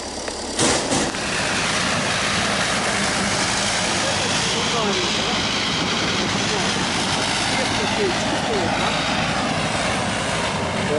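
A loud, steady engine drone from a tractor-unit truck with a 20-litre engine rumbles continuously throughout, close and heavy, like a big truck idling or running nearby.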